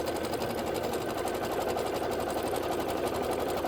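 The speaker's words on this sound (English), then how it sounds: "I'm going to slide that in, and it's going to stitch all the way around" An embroidery sewing machine stitches around a Kimberbell design with a fast, even whirring hum and rapid needle chatter, steady and close throughout with no pauses or voices.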